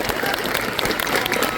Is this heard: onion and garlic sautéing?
no